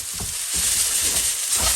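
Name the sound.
frying noodles with bean sprouts in a pan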